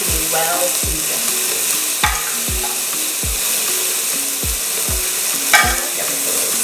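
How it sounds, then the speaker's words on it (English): Breadfruit stirred and sizzling in a seasoned pot, a close, even frying hiss broken by regular thuds and scrapes of the spoon against the pot, roughly twice a second. "I'm going to start adding my breadfruit in a little at a time and stirring"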